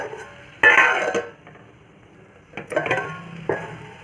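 A spoon stirs crushed peanuts into ash gourd curry in a pan, scraping and clinking against the metal in two short bursts separated by a quiet pause.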